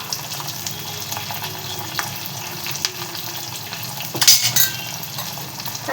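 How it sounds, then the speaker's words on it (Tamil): Poha is stirred with jaggery in a frying pan, giving soft scraping and occasional clinks of a utensil against the pan over a faint sizzle, with one louder clatter near the end. "வெல்லம் சேர்த்து இது கூட நல்லா மிக்ஸ் பண்ணிக்கிறேன்"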